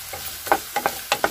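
Potato pieces fry in plenty of hot oil for an aloo palak gravy, a soft sizzle broken by a few quick scraping stirs of a spoon in the pan, close by.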